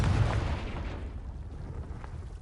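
A Confringo fire spell explodes in Hogwarts Legacy on PS5: one loud, booming blast with heavy low rumble that swells at the start, then decays into a long, fading roar.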